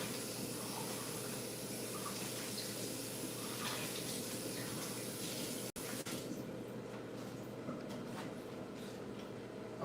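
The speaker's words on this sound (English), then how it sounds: "to rinse your grits" Steady running water hisses and splashes as grits are rinsed under a tap, a constant close wash with a small clunk midway and no talk.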